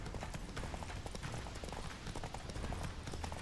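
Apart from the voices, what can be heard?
horse Roach galloping in video game The Witcher 3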